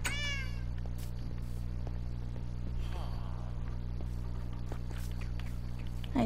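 A cat in the Minecraft video game gives a few short meows, the clearest one at the start, over a constant low background hum, with faint footsteps and small game noises in between.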